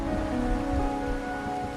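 Steady rain falls in the Wuthering Waves video game, a constant soft patter layered with sustained tonal background music.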